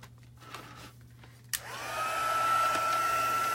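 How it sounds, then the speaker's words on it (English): An embossing heat tool clicks on and then blows hot air in a steady, loud whirring hiss with a high whine, following a few quiet handling sounds. "And then you just grab your heat tool."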